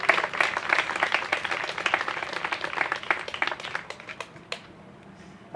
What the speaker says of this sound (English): one more round of applause for Pocket Parks and Art is appropriate